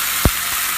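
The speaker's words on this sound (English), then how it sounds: "you'll hear it start to sizzle and everything" A steak laid into hot grease in a cast iron skillet over medium-high heat gives a short, loud hiss as it hits the pan, then a low, steady frying sizzle continues on its own.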